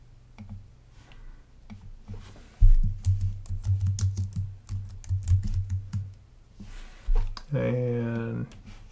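Typing on a computer keyboard, a run of clicky keystrokes in the higher range heard up close beneath a speaking voice that carries through most of the clip.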